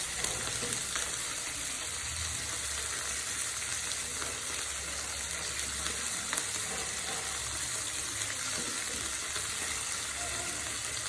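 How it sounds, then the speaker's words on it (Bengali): Chicken pieces fry in a pan for chicken bhorta, a quiet but steady crackling sizzle that runs unbroken throughout with occasional soft stirring. "এখন হচ্ছে সব কটা ভালো করে ভেজে নেব।"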